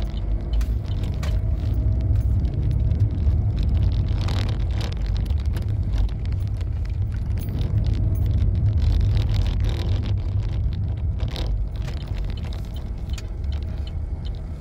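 Steady road traffic in Tunapuna, a continuous low rumble of cars and engines close by, loud and unbroken throughout with faint wind buffeting and no talk.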